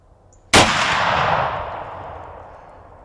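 A single sharp rifle shot fired at a deer on the opening day of Michigan's rifle hunting season, one loud close blast followed by a long rolling echo that fades slowly outdoors.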